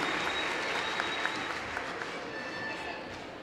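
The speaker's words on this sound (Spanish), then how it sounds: "Despidámoslos con un fuerte y caluroso aplauso" Audience at a 2024 school cueca folk-dance contest in Constitución applauds in a steady, sustained burst of clapping from a large crowd, filling the whole stretch without pause.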